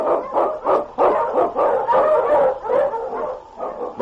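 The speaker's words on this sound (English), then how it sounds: "The wonder dog King, swiftest and strongest of Eskimo lead dogs, blazes the trail through storm and snow" Husky sled dogs bark and yip in a rapid, overlapping chorus in a 1946 radio drama set in the Yukon, loud and close with no voices over them.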